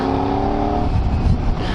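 A rally car races past on a rally road, a loud close engine roar whose pitch drops as it goes by, followed by rough rumbling as it pulls away.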